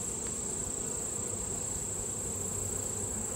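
Honeybees around a hive during bulk feeding make a dense, continuous buzzing drone, steady and close throughout with no voices.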